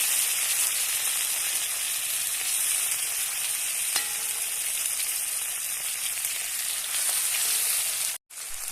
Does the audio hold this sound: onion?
yes